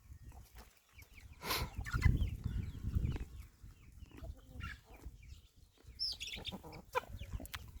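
Crossbred hens and chicks in a backyard coop cluck and chatter while being fed, several birds calling near and far with a few sharper squawks over soft background noise.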